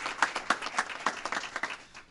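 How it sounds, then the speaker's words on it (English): A small gathering of health service workers gives a round of applause for rear admirals, distinct individual claps in a loose, uneven rhythm close by. "Give them a round of applause."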